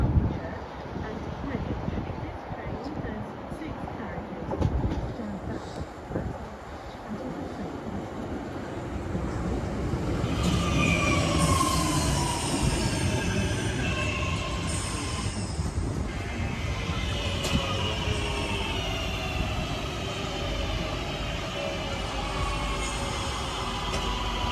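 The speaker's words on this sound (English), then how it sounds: "Here comes my train, which is going to take me to Witton." A train on the Chase Line rumbles into a station near Villa Park and draws closer, its low roar building as squealing wheel tones glide over the top, loud and steady through the second half.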